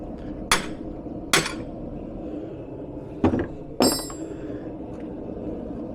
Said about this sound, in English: so I'm going to be cutting all the way through this, and I don't want to put a big chisel mark in the face of my anvil